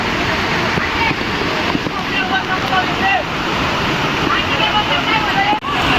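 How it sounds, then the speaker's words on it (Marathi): Heavy, constant roar of the Dugarwadi waterfall near Nashik fills the whole clip, broadband and steady, with wind buffeting the microphone. "भरपूर पाण्याचा ताकदीने पाणी पडू राहिलं खालून"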